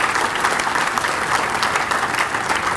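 An audience at the 2018 One India Award ceremony breaks into loud, steady applause, a dense wash of clapping that carries on evenly throughout.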